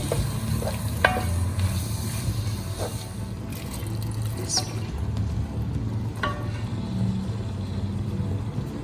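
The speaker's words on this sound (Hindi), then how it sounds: "और ज़्यादा चम्मच नहीं चलाना कि जो दाल है वो आपकी टूटे ना।" Soft spoon scraping and stirring as mashed mash dal (urad dal) is folded into a spiced masala in a pan, with a steady low sizzle and occasional light clicks, close and unhurried, with no talking.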